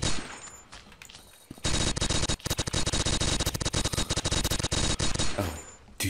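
Sustained bursts of MG42 machine gun fire in the video game Blockade 3D, loud and dense, starting after a quieter opening and continuing in rapid near-continuous volleys with brief gaps.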